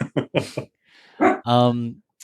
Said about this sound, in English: There goes the dog. I hear him.